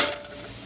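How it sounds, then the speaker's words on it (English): Vegetables sautéing in a frying pan give a short, steady close sizzle with a bright hiss at the start that settles into an even crackle, with no talking. "So we're just gonna let these saute."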